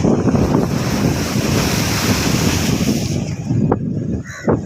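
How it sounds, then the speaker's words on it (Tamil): Rough sea waves crash and surge near a bridge in a continuous loud roar, with heavy wind buffeting the microphone throughout. "இப்போ தண்ணி அங்கே அடித்து இந்த பிரிட்ஜு கிட்ட வருது"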